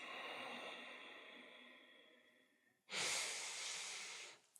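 Deep breathing during a seated yoga hip stretch, with a long slow exhale that tapers off, then a strong airy inhale, close and quiet with no talking.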